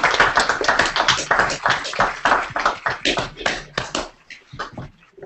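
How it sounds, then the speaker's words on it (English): Audience applause at a Q&A session with DJs Steve Aoki and Kaskade: dense, steady clapping from a crowd that rolls on loudly for about four seconds, then thins out into a few scattered claps. "Let's go a round of applause,"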